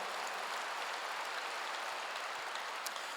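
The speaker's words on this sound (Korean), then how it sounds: "박수로 나와주시오" A church congregation claps together in a dense, even patter of applause that holds steady throughout, moderately loud and with no speech over it.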